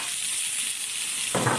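Tomatoes sizzling as they sauté in a pan with mussels, a steady bright hiss of frying that swells louder near the end as something is stirred or added.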